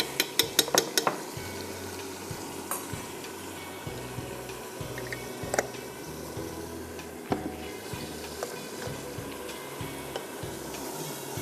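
Chopped tomatoes and ginger garlic paste frying in a pan for nalli biryani, a soft steady sizzle broken by sharp clinks and scraping of a utensil against the pot, close and without talk.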